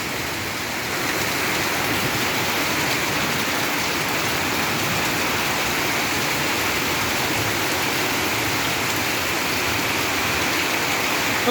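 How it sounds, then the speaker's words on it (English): Steady, dense rainfall pouring down on an evening, a constant close wash of hiss with no breaks and no voices. "As you can see, it's raining."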